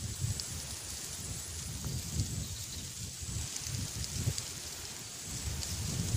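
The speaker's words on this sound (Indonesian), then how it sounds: "Angin." Wind blowing through leaves outdoors at a hunting spot for spotted doves, a soft rustling wash with gentle gusts swelling and fading, faint and steady, no talk.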